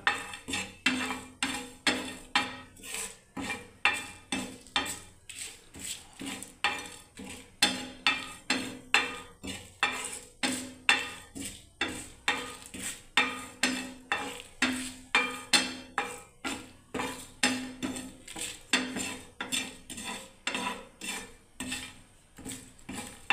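Spices dry-roast in a dry clay pan over a low gas flame while a spatula stirs them, producing a rapid, steady run of scraping strokes close up and moderately loud for the whole stretch.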